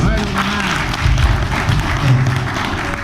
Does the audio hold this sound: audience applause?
yes